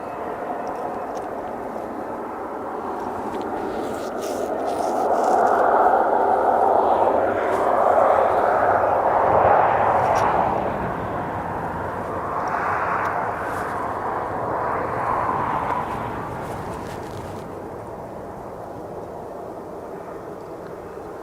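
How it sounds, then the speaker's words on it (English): A Loganair plane departs Aberdeen Airport, a broad roaring engine noise that swells over several seconds, peaks and then slowly fades into distant rumble, heard from outside without talk. "We've got the Loganair departing here."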